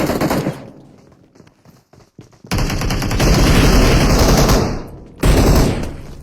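Gunfire in the mobile shooter PUBG Mobile: an opening burst, a few scattered faint shots, then loud sustained automatic fire from about 2.5 seconds that fades briefly before another heavy burst near the end.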